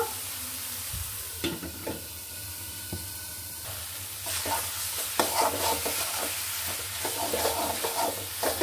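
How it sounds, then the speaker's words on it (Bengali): Banana stem frying in oil in a pan, stirred with a spatula, giving a steady soft sizzle with repeated scraping strokes. "শুধু নাড়তে হবে।"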